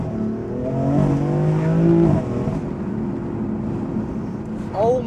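A BMW M4 Competition engine revs up loudly inside the cabin, the pitch climbing for about two seconds before dropping back to a steady drone, with a brief second blip at the end.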